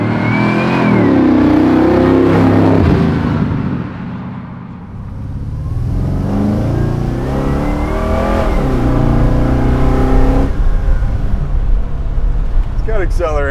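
An LS-swapped Chevy Bel Air resto-mod engine revs loudly up and down in rising and falling sweeps, with a short dip in the middle before climbing again, heard close up with people talking over it.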